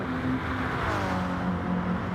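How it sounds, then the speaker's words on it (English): GT3 race car engines hum in a sim racing game, a steady layered engine drone with a brief rising and falling sweep of a car passing, continuous and moderately loud. "you're going to see some cracking engine sounds from these bad boys"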